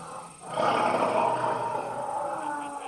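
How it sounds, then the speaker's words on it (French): Lions roar together in the wild, a deep rumbling chorus of overlapping roars that swells suddenly and stays loud and sustained, close by, with no speech. "Il s'avança et se mit lui aussi à rugir."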